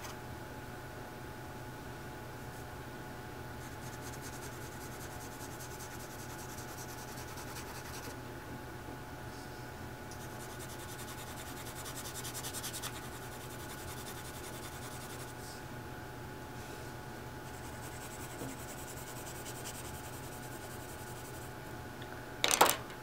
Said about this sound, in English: Some good old-fashioned cross-hatching.